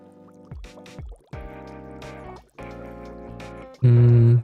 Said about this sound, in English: The sound of water flowing?